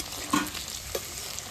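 Gunda fruit fries in hot oil with a faint, steady crackle and a couple of soft pops, low and close with no talking.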